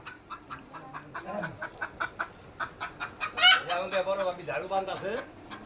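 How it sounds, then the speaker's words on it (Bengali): Native village chickens cluck and chatter in a busy rhythmic series of short calls close by on a rural morning, with faint talk in the background. "এই যে মুরগি এদিকে দেশি মুরগি"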